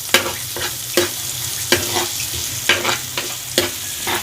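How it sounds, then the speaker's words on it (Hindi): Onions and green chillies frying in a pan, stirred at intervals with a spatula: a steady sizzle runs underneath and sharp scraping strokes land roughly every half second to second, close and fairly loud, with no talking. "ये मैंने 6 हरी मिर्चें ली हैं, इनको भी साथ में इसको फ्राई कर रही हूँ जब तक ये गोल्डन ब्राउन नहीं हो जाए"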